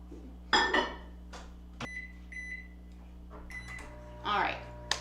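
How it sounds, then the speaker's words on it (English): A 900-watt microwave oven runs in a kitchen with a steady low hum, broken by a few beeps and some clatter from kitchen handling. "this is gonna go in at a 900 watt microwave for 1 minute and 15 seconds"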